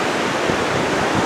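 A river in Umpqua National Forest rushes past beside a bridge, giving a steady, full broadband wash of moving water with no breaks and no voices.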